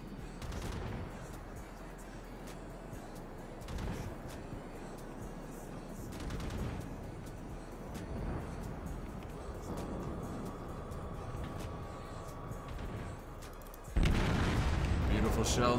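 In the World of Warships video game, a battleship fires main-gun salvos: several heavy booming blasts at irregular intervals over a continuous rumble of game sound, ending with a loud burst, while a voice talks faintly.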